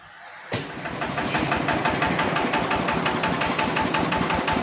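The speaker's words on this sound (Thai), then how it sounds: "ลองสตาร์ทเครื่องแล้วก็ดูหลักการทำงานหน่อย" A homemade Thai tractor engine cranks and catches, then settles into a steady, fast knocking run, loud and close, with a continuous rattling beat and no one speaking.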